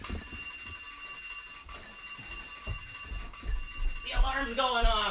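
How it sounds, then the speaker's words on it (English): An alarm rings out in a studio just as a live broadcast begins, a repeating tonal beeping that swells louder toward the end, with people talking over it throughout. "The alarm's going off."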